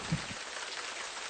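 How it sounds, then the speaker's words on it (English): Rain falling as a sound effect in a children's story: a brief, faint, steady hiss of rainfall with a soft drop or two at the start. "Suddenly, it begins to rain cats and dogs."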